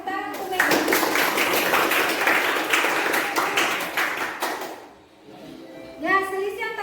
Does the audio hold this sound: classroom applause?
yes